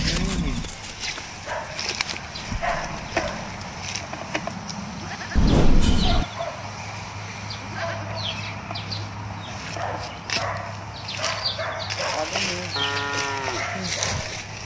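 A cow moos on a Filipino goat-raising homestead, one loud low call standing out amid farm background noise, with scattered voices nearby.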